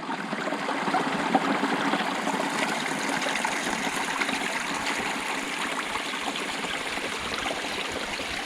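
A trail water source along the Appalachian Trail trickles and splashes in a steady, even wash of running water, fairly close, with no voices.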